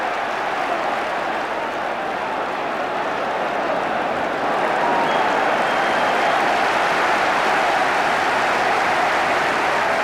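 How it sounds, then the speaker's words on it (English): A football stadium crowd at a Tottenham Hotspur v Wolves match applauds in a steady, dense roar that swells slightly halfway through and carries on without a break. "And I think we can say the crowd enjoyed that."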